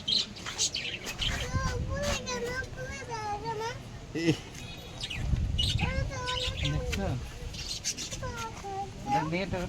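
Birds chirp and call repeatedly in quick, overlapping bursts, with voices and general background activity mixed in.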